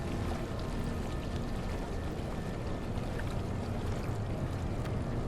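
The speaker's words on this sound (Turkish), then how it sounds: "Bayağı sürüklüyor bizi ha dalgalar." Waves carry a small boat through dark water in the video game Bramble: The Mountain King, a steady wash of water and sloshing with no voices.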